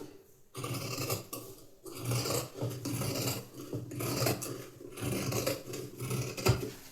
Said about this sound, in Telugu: మార్క్ చేసిన విధంగా కట్ చేసేస్తున్నాను